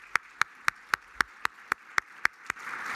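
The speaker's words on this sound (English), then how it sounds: "Round of applause, please." A few slow, evenly spaced claps ring out sharply and close, roughly four per second, before giving way to a softer wash of crowd noise at the end.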